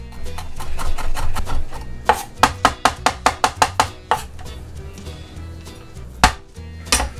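Garlic clove smashed and then chopped with a knife on a cutting board, a burst of about ten quick, crisp knife strikes in a steady rhythm with a few scattered thuds before and after, close and clear with no talk.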